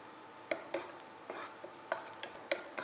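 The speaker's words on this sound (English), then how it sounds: "you have to be consistent about stirring it if you keep it on a medium-high flame" Neem flowers stirred in a pan over a medium-high flame, a soft steady sizzle broken by several light, irregular scrapes and taps of the spoon, close and quiet with no talking.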